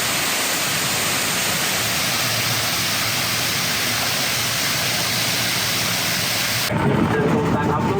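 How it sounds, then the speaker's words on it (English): A waterfall in a tropical forest in Malaysia roars with a dense, broad, unbroken rush of falling water that fills the scene and stays steady. Near the end it gives way abruptly to a quieter, different setting. "a lovely waterfall."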